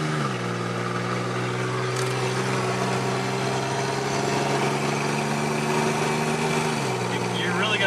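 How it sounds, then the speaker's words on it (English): Noisy car engine droning loudly and continuously while driving, a steady low hum with a slight pitch shift near the end, and people talking over it. "it's a noisy car I have"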